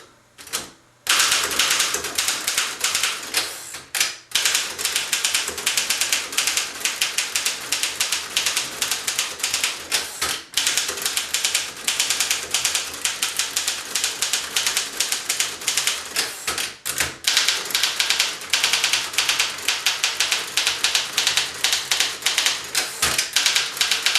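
A 1930 Underwood No. 5 manual typewriter typing: dense, rapid mechanical key clacks in a continuous run, loud and close, broken by a few brief pauses and carriage-like thumps, with no talking.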